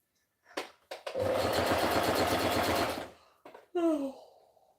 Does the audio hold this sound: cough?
no